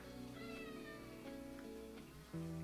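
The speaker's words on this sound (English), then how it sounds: "the cat is seriously crying at the door and he can't come in because I'm filming" Drawn-out cat cries from a cat shut out at a door, faint and distant under a steady background hum, with a brief louder thump near the end.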